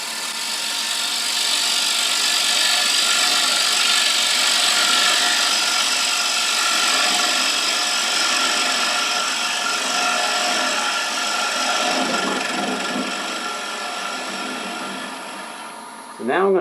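A wood lathe spinning a turned paten while a tool takes a finishing cut across the bottom, a steady close hum and smooth scraping hiss that eases slightly near the end.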